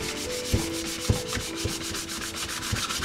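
Hand sanding of clear coat on a carbon fiber part, a close, steady rasping rub in quick repeated back-and-forth strokes with small knocks at regular intervals.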